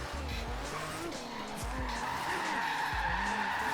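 Tires on a Datsun 240Z squeal and skid in long, wavering screeches as the car drifts through a corner in the racing game Forza Horizon 3. The loud engine drones underneath.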